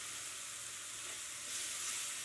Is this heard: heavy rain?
no